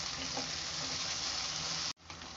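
Ginger and garlic sauté in a pan for a Tamil prawn curry, giving a dense, steady, fairly loud sizzle that breaks off abruptly for a moment near the end before resuming.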